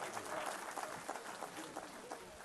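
A crowd gives steady, faint applause at a mushaira, an Urdu poetry gathering. The clapping runs through the whole moment with no clear speech over it.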